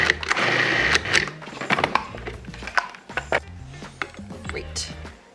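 Food processor pulsing butternut squash into a smooth puree, with repeated short bursts of whirring and choppy clattering that stop and start in an uneven rhythm.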